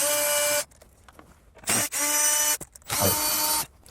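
A cordless power tool whirs in three loud, close bursts with short pauses between, spinning out 10mm bolts from a dash assembly on a 2016-2021 Toyota Land Cruiser, with faint mechanical clicks in the gaps and no voice.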